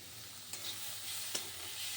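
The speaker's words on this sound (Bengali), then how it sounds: "আলুটা আর গাজরটা প্রথমে ভালো করে ভেজে নেব" Potatoes and carrots fry in oil tempered with cumin seeds and curry leaves, giving a steady close sizzle broken by two brief scraping stirs of a utensil, with no talking.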